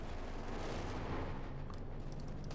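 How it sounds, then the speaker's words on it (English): A Company of Heroes 2 battle on the Slaughterhouse Checkpoint map, with machine gun fire blended into a dense, steady roar of combat. Shots and blasts crackle and boom continuously at a moderate distance, with no clear pauses. "Machine gun bang up"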